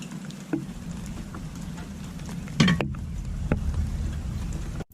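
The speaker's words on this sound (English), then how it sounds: "I'm sure you guys can hear the rain." A brief torrential downpour at a jungle hammock camp pours down as a dense, even hiss of rain patter, with a few louder drops and taps striking close by.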